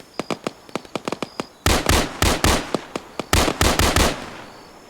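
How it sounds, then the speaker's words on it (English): Infantry gunfire in the Arma 3 video game: rapid bursts of sharp rifle shots, first lighter and spaced, then louder and denser volleys that crack close by and ring out in quick irregular rhythm. "Guys, infantry shooting at 1."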